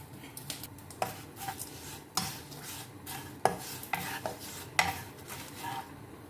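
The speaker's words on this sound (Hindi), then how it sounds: "यहाँ पर हमने प्याज ब्राउन किया हुआ ले लेते हैं। हल्का सा इसको हम फ्राई कर लेंगे।" Browned onions fry in cooking oil in a pan with a soft sizzle, while a spoon stirs and scrapes against the metal in irregular close knocks.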